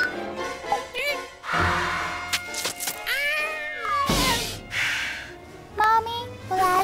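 A cartoon cat meows repeatedly, several short and drawn-out calls close up, mixed with animated voices and music-like tones.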